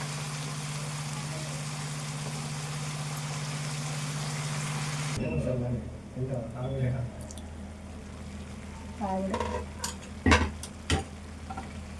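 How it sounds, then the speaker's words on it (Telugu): Cabbage egg curry is stirred in a pan on the stove, a steady hum of cooking noise giving way to scattered scraping and clacking of a spoon in a few short bursts, close and moderate, with someone talking softly. "ఇట్లా కలుపుకుంటూ ఉండాలి"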